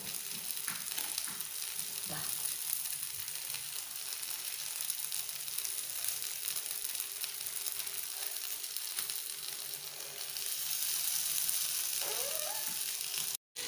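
Food frying in a pan and turned to cook on all sides: a continuous soft sizzling hiss with occasional light stirring taps, fairly quiet and steady, growing slightly louder toward the end before cutting off abruptly.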